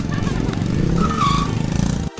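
Motorcycle engine and exhaust revving steadily while ridden on a public road, loud and close, with a rising whine midway before cutting off abruptly near the end.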